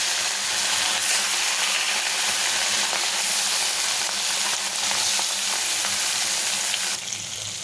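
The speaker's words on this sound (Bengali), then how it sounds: "এখন মাছগুলো ভেজে নেব।" Fish fry in hot oil in a home kitchen pan, giving a loud, continuous crackling sizzle that holds steady for several seconds with no talking.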